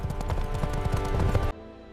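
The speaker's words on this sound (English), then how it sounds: "Sun Jian immediately mounts his horse and retreats" Horse hooves clip-clop in a quick, steady rhythm as a rider mounts and retreats, close and fairly loud, then cut off abruptly.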